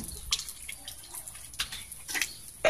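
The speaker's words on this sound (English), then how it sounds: "After that, you can wash your face like this" Water trickles and splashes from a tap while a face is washed for wudhu, soft intermittent splashing with a few louder gushes, close by and fairly quiet.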